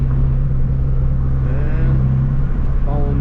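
A Subaru BRZ driving gently on the road, heard from inside the cabin as a steady, loud low engine drone and road rumble with a slight rise in pitch partway through, with no talk.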